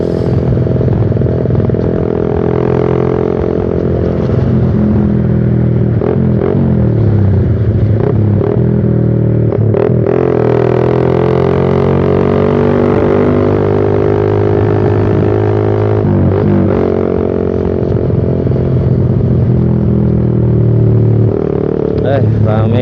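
Suzuki Satria FU fuel-injected motorcycle with a Pro Liner exhaust revving on a main road, loud, close engine note rising and falling through several throttle blips, with someone talking over it.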